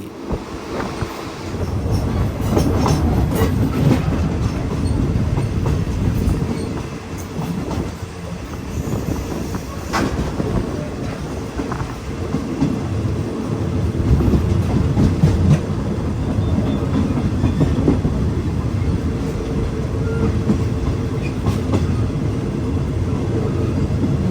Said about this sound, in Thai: ขบวนรถไฟของเราก็กำลังวิ่งผ่านสถานีรถไฟภูเขาลาดครับ